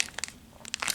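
A small plastic bag holding pearly, rice-shaped craft beads crinkles in two quick bursts of crisp rustling, close up and brief.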